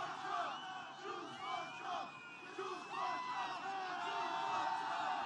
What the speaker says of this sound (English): This is a nice rowdy crowd, isn't it, huh?